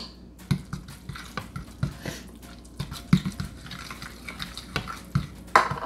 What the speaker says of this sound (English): And then it says mix well until combined.